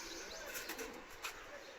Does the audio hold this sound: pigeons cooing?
yes